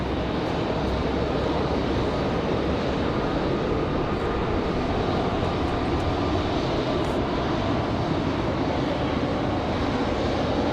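An American Airlines jet departs for Miami from Raleigh-Durham airport, its broad engine roar holding steady and loud for the whole stretch, with no voices over it.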